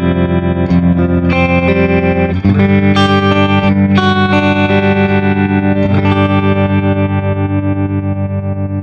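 An electric guitar played through a VOX Cambridge50 amp on its deluxe channel with distortion, chorus and delay effects: loud sustained chords and notes ringing out with a swirling, pulsing modulation, no speech.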